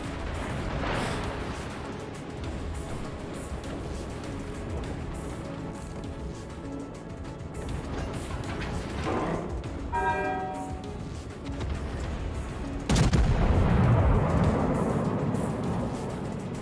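Battleship main guns firing in the naval game World of Warships, booming salvos rolling out among game effects with a heavy blast near the end, mid-range and loud.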